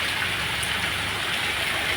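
Heavy monsoon rain pours down in the Gir area as a dense, unbroken hiss of falling water, loud and even from start to finish.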